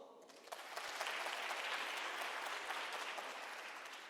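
A whole church congregation claps together at once, a thick wash of many hands that swells within the first half second and then holds evenly, heard fairly faint and from a distance.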